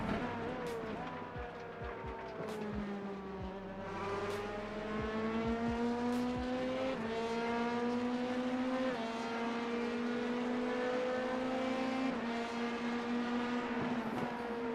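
LMP2 race cars roar past at Watkins Glen, a sustained loud engine note rising and falling in pitch as several cars sweep by in succession with no break.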